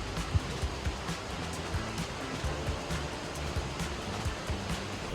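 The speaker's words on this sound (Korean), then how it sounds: "폭포가 있나 봐." A steady, distant rush of a mountain waterfall on an autumn trail up Jirisan's Cheonwangbong peak, a soft broadband roar with faint low thuds, likely footsteps, passing beneath it.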